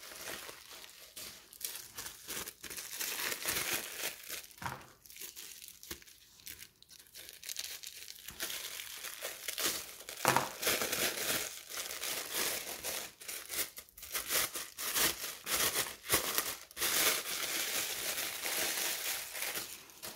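A well-packed parcel from an online order is torn open: close, sustained crinkling and tearing of plastic wrapping in irregular bursts, rising and falling in loudness, with no talk.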